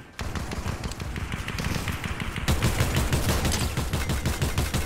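Rapid gunfire from the Fortnite video game, Chapter 4 Season 3, crackles in dense bursts of shots that grow louder and heavier partway through, continuing almost without pause.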